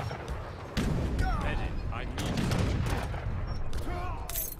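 Gunfire in the Age of Empires III strategy game, with bursts of crackling musket volleys and sharp shots over a busy battle mix, fairly dense and continuous, while someone speaks briefly.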